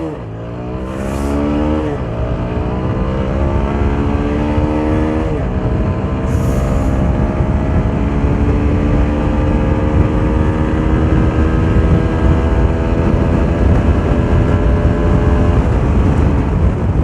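An Apache RTR 160 4V ABS motorcycle engine revs repeatedly, loud and close. The pitch climbs in several rising sweeps and then holds a steady, throaty roar throughout, with no talking.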